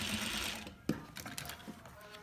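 A sewing machine stitches a small 5x7 fabric pouch with lining, giving a short mechanical whir that pauses around a sharp clack, then resumes more faintly.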